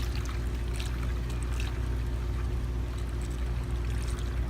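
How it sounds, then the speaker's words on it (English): Coolant pours and trickles into a car's coolant reservoir as it is topped up to the maximum line, a steady liquid gurgle heard close and continuous, with no talk. "I'm just going to fill it up here to the maximum"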